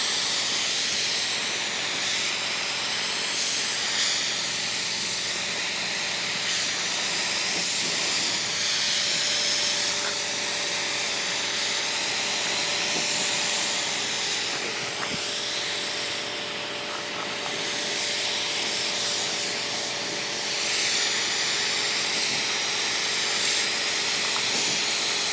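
Paint sprayer laying a coat on RV stabilizing blocks, producing a continuous steady hiss that holds throughout at a close, even level with no talking.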